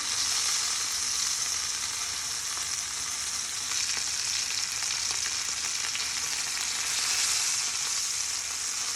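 Meat sears in a hot pan with a loud, continuous, even sizzle, close up and alone, with no talking.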